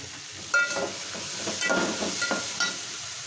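Onions frying in a generous amount of oil with a little salt in a pan, giving a steady close sizzle and hiss with a few louder crackles and stirring scrapes, no talking.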